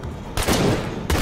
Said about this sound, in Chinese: 不过我看我的伙伴跟邻居在开枪啊